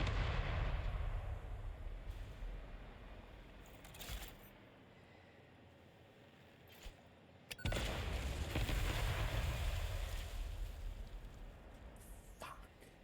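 A bomb goes off in a video game with a heavy, broadband blast that swells into a long roar, then a second sharp detonation bursts in and rumbles on, with smaller crackling pops in between.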